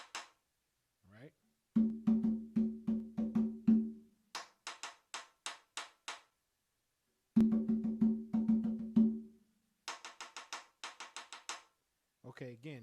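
Hand drum call and response: bursts of sharp hand strikes at a steady tempo, alternating between deeper resonant patterns and brighter slap-like phrases, each group answering the last, with brief gaps between, played alone and close.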